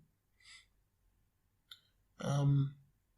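Single quiet, sharp mouse click on a computer icon, set between soft breaths and a short voiced sound.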